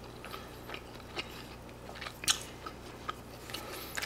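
A GS convenience-store lunch box of pork cutlet topped with pizza sauce, tomato sauce and cheese being eaten: soft, close chewing and biting with a few sharper crunchy bites over a quiet room hum.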